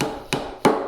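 A hammer strikes a chisel cutting a mortise into wood for a workbench, two sharp, close knocks about a third of a second apart over a low background hum.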